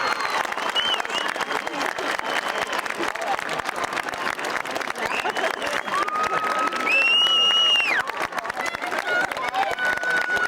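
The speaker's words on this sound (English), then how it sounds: "Let's all stand up and give them a round of applause." Sustained applause from a graduation audience at Rogers High School in Wyoming fills the hall in a dense, steady wash of clapping and crowd noise, with faint cheers and a whistle rising above it.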